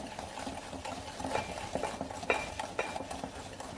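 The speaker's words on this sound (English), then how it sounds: "I'm whisking this about 4 to 5 minutes." Eggless tutti frutti cake batter with castor sugar being whisked by hand in a bowl, giving a steady run of soft scraping and tapping strokes close by, with no talk.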